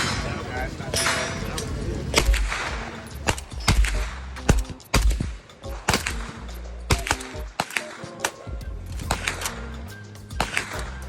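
Suppressed AK rifle fire at an outdoor shooting range, with sharp, fairly muffled shots in an irregular series amid background chatter and range noise.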